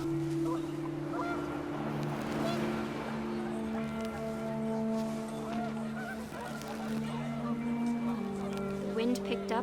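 Panicked geese honk loudly and repeatedly in What Remains of Edith Finch, a dense chorus of nasal calls close by under wind, while a voice talks over them.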